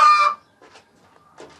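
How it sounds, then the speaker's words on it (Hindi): Golden Misri hens in a coop give a loud burst of squawking, followed by quieter scattered clucks and a last short squawk, with no talk over them. "ये पीछे जो मुर्गी ना वो शोर मचा रही है"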